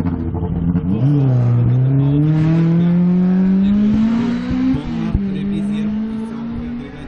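A Mitsubishi Lancer Evo 10 rally car prepared by a racing team, its engine revving hard and climbing through the gears as it passes near and loud, with a shift and a sharp crack midway.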